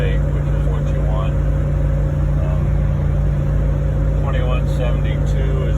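Vortec V8 engine idling at a fast steady speed in a 1987 Toyota FJ60, a loud continuous drone with a constant hum, with someone talking over it.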